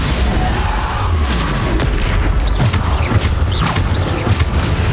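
Bombarda explosion spell cast during a troll fight in the video game Hogwarts Legacy, a loud, dense run of booming blasts and crashing impacts with overlapping magical whooshes, constant and close throughout.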